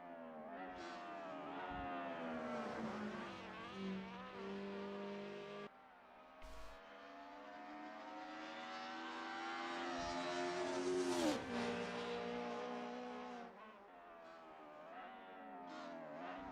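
DTM sim race cars at the Wunstorf 93 circuit, engines droning steadily with a long tyre squeal as one car spins its wheels, rising to a loud peak near the end before fading.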